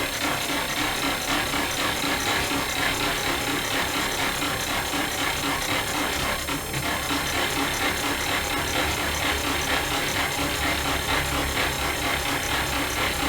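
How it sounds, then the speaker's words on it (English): A sewing machine stitches coiled rope into a bowl with a strong 90-degree curved side, a steady dense mechanical whir and rapid ticking running continuously and fairly loud with no pauses. "I start my stitching"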